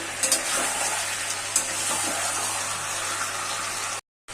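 Chicken sizzles steadily in a pan as it is stirred with spices and turmeric, a continuous broad frying hiss with a few scraping clicks, close and fairly loud, cutting out abruptly near the end.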